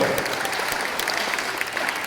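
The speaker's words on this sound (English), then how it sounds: "Let's give them a round of applause." An audience claps steadily for wrestling champions at a high school wrestling gathering, a dense, even burst of applause throughout with no voices over it.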